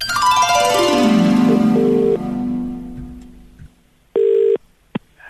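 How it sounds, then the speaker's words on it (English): A telephone is dialed for a call: a descending musical sweep gives way to quiet clicks, then a loud steady dial tone and a short beep. "you'd have to make a phone call, something like this"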